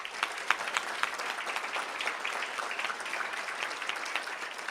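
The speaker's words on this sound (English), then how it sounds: "let's give them a round of applause as well" Audience at a school board of trustees meeting applauding steadily for student runners and their parents, a dense even patter of clapping that holds for several seconds without talk.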